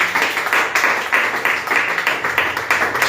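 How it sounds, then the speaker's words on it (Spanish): Audience clapping in a church gathering, a steady patter of many hands at moderate volume for a few seconds. "Démosle un aplauso a él, a la Biblia."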